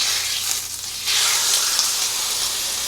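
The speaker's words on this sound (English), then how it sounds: "start frying the chicken." Chicken frying in olive oil in a frying pan, a steady loud sizzle and hiss that swells noticeably after the first second and keeps crackling without pause.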